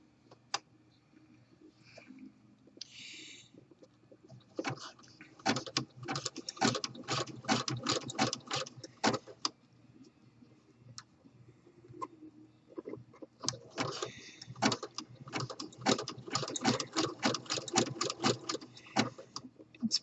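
A home sewing machine stitches an exposed elastic waistband at just under 2mm stitch length, running in two long rapid bursts of dense mechanical clatter separated by a short pause, with a few soft handling clicks before it starts.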